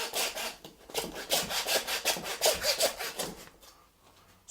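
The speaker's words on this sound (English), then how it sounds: "I'm just going to go through the neck, and as soon as the blade's gone through the bone" A hand saw cuts through the neck bone of a venison shoulder during butchery, giving a rapid run of rasping back-and-forth strokes, close and clear, pausing briefly near the end.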